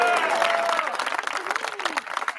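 An arena or live-show audience applauds a newly introduced team member, steady clapping and light cheering at moderate distance, tapering into scattered claps, with a voice talking over it.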